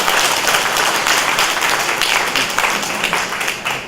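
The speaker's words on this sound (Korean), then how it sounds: "박수로 뜨겁게 환영합니다." A church congregation applauds to welcome new members, a loud, dense burst of clapping that fills the room and continues steadily, tapering slightly at the end.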